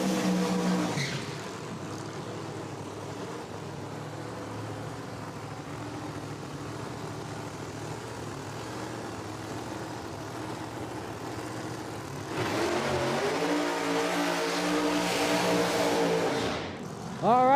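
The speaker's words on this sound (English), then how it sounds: "next pair just finished up their burnouts over in the right lane" No prep drag race cars do burnouts at Beech Bend Raceway Park, with a continuous distant engine drone that swells near the end into a louder, revving burst, under an announcer's voice.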